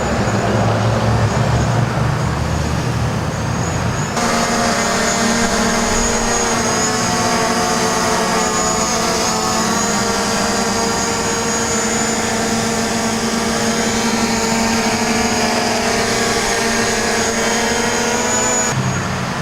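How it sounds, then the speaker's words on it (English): A DJI Mavic Pro drone flies nearby with a steady high-pitched propeller whine and hum that runs unbroken, loud and close, after a brief quieter start, with no talking. "This drone flies pretty sweet nonetheless."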